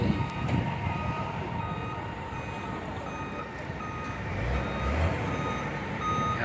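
A truck reverses and parks near a neighbourhood fire scene, its high reversing beeper sounding in a steady repeating pattern over a continuous low engine rumble and outdoor background noise.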